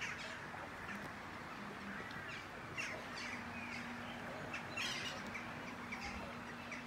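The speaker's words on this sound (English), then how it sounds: "Got quackers up here, flamingos up here." Ducks and flamingos calling at a bird park, a busy outdoor chorus of honks and quacks scattered at moderate distance over a low steady background hum.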